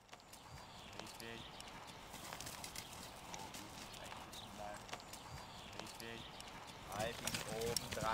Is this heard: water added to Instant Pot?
no